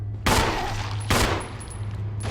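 Gunshots ring out at a zombie in Resident Evil HD Remaster, three sharp, loud, separate bangs spaced about a second apart, each with a short echoing tail over a low steady hum.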